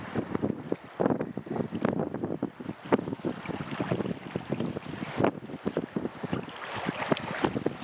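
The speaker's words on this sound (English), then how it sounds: "You may be actually able to hear the wind in the microphone on the camera" Gusty wind buffeting a camera microphone on a kayak trip in rough, whitecapped water, a loud rumbling roar with irregular bursts and thumps, continuous throughout with no voices.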